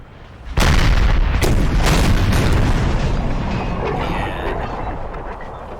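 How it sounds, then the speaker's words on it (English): A massive gun battery opens fire in the Napoleonic Total War 3 video game: a sudden loud boom followed by a sustained roaring barrage of overlapping cannon blasts that rumbles on, slowly fading, with no talk. "There's the massive gun battery"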